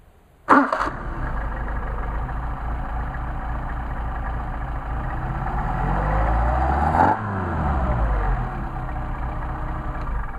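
An engine fitted with Solex carburetors hot-starts with a sudden burst, settles into a steady rumbling idle, then revs up and drops back down near the end, heard up close without talk.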